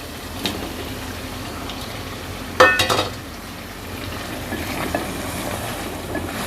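Pieces of taro (arvi) drop into a pan of frying mutton for a curry, setting off a loud clattering burst and a steady sizzle. Softer stirring knocks follow under the continuous frying noise.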